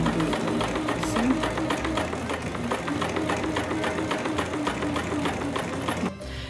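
Singer electric sewing machine run by foot pedal, stitching in a rapid, even mechanical chatter that continues close and loud for several seconds, then stops abruptly near the end.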